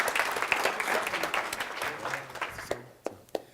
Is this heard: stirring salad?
no